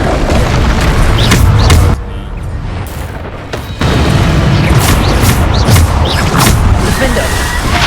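Bombarda spell explosions from the fantasy action game Hogwarts Legacy land as loud, dense booms over continuous battle noise, one after another, with a brief lull in the middle. A voice speaks over parts of the fight.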